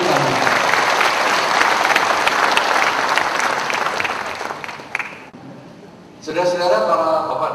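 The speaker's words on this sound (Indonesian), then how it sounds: "mari kita berikan tepuk tangan yang mulia kepada Banting Tamu" An audience at an indoor talk applauds the guest in sustained, dense clapping that fades over several seconds, then another burst of applause mixed with crowd voices rises at the end.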